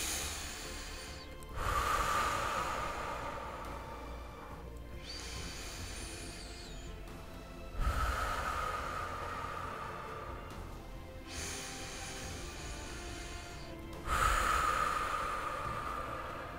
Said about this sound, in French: On inspire et on expire trois fois.